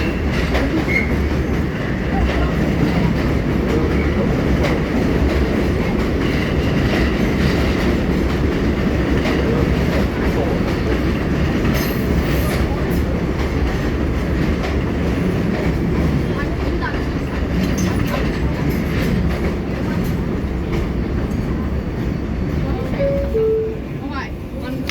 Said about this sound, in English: This is a Flushing Main Street bound 7 local train.